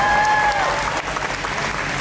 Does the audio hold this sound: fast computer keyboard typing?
no